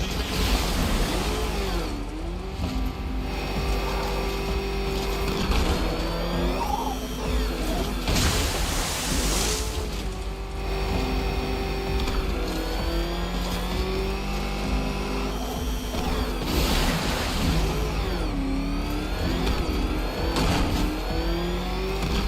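A car engine in Batman Arkham Knight revs and accelerates loudly and continuously, its pitch sweeping up and down through repeated throttle bursts with crunching impacts mixed in, no talking.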